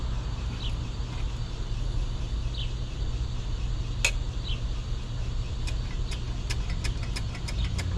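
A Chevy Nova engine that has sat for 35 years is cranking as it tries to start, giving a continuous low, churning rumble with scattered metallic clicks and ticks, heard close and steady throughout.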